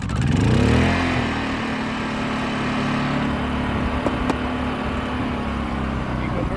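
Honda EU2000i inverter generator firing up with a brief rise in revs, then settling into a steady, fairly quiet hum close by, with a faint tick or two near the end.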